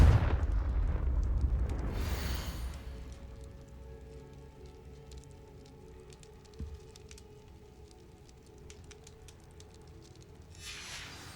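A Confringo fire spell bursts in a cellar in Hogwarts Legacy: a heavy booming blast at the start, then a low crackling rumble and debris-like patter fading out, with another swell at the end.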